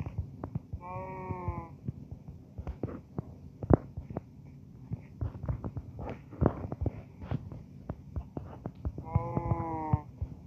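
Sheep in a Minecraft Sky Block game bleating in two short bursts, one near the start and another near the end, between soft clicks and tapping sounds, with no talk.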